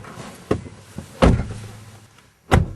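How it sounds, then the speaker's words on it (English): Several solid thunks of a Land Rover Freelander 2 car door being shut, close by, with a heavy muffled slam near the middle and another at the end. "Nice solid doors."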